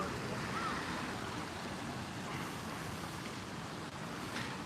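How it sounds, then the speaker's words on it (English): Flowing water in Kenrokuen, a Japanese garden in Kanazawa, fills the scene as a steady, even rush of broadband noise with no break, fairly close and continuous, with no voices over it. "I hope you can hear the sound of the water behind me too."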